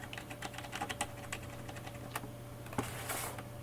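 Computer keys pressed on a Linux Mint machine, a quick run of light, close clicks and taps at an uneven typing rhythm over a steady background hum, with no talking.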